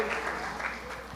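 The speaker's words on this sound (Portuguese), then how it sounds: "Você pode aplaudir ao Senhor com o seu melhor?" A church congregation at Igreja de Nova Vida do Catete claps together in a brief, dense, steady burst of applause that fills the room.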